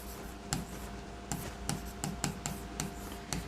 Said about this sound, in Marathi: तो या ठिकाणी मी लिहित आहे